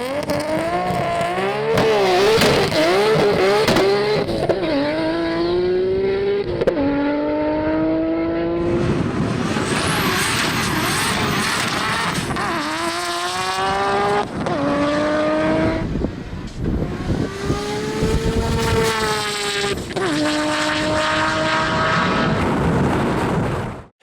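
A 1000hp Nissan GT-R on a drag strip roars through a full pass, loud engine screaming up through repeated rising gear pulls with sharp shift breaks, then cutting off abruptly at the end.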